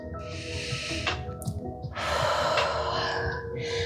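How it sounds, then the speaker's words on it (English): Deep breathing during hatha yoga practice: a long audible inhale through the nose followed by a fuller, rushing exhale, close and breathy with no talk over it. "One more deep breath here."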